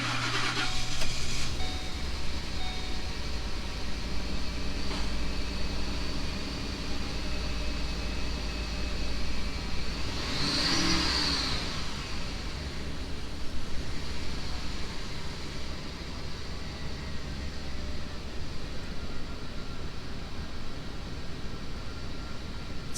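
2011 Lincoln Navigator engine starting up after a spark plug repair, an initial cranking burst then a steady, even idle that continues as a constant mechanical hum, close and unaccompanied by talk.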